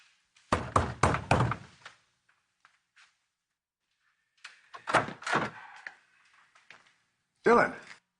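Several firm knocks thud against a door in a quick cluster, then after a pause a second, looser group of knocks and thumps, close by in an otherwise quiet space.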